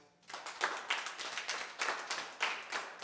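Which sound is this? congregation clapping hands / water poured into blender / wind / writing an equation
congregation clapping hands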